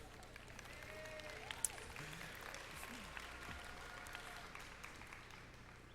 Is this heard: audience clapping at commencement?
yes